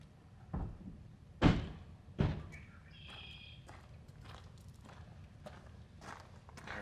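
Truck doors shut outdoors on a cold, rainy night: two or three solid thuds in quick succession early on, followed by softer rustling, footsteps and faint handling noises, with no talk.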